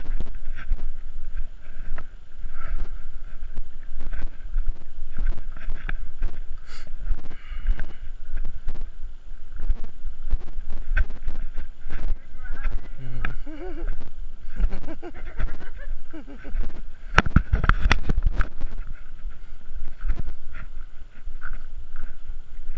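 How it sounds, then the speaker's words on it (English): Steady wind rushes and buffets outdoors beside the water, a constant blustery roar with occasional gusts throughout; a brief low thump and faint voices appear near the end. "nice wind on this side."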